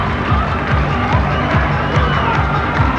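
A crowd at a 1996 NBL basketball game between the Hobart Tassie Devils and Perth Wildcatts in Hobart, with steady broad cheering and murmur filling the arena, a regular thumping pulse running underneath throughout.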